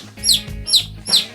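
Chicken clucking close by, three sharp high-pitched calls in a quick even rhythm over a soft background, no voices.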